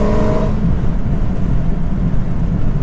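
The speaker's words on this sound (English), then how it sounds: "So let's give it a little bit more gas." Dodge Hellcat fitted with a velocity stack intake, its engine giving a short rev before settling into a deep, loud rumble heard from close by.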